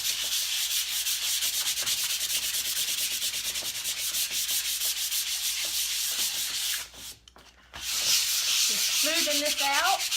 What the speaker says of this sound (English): So I kind of sand it off and it makes it really, really smooth.